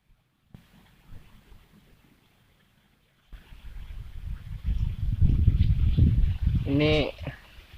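Strong wind at a fishing spot rumbles and buffets the microphone in low, rough gusts that rise after a quiet opening, and a voice speaks briefly near the end.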